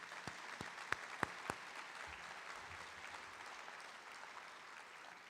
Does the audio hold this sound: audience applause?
yes